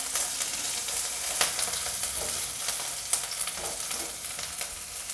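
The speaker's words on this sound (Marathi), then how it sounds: "आता आपल्याला फोडणी घालायची." Mustard-seed tempering crackles and sizzles steadily in hot oil for roasted poha chivda, a dense, continuous frying hiss with sharp pops scattered throughout, close and fairly loud with no talking.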